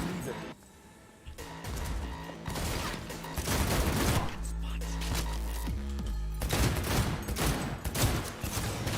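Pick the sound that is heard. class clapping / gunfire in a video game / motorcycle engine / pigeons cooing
gunfire in a video game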